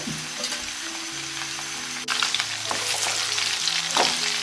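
Chopped raw mango sizzles in a hot pan for a sweet-sour mango chutney, a loud continuous frying hiss with a sharp burst as the pieces go in and stirring scrapes after.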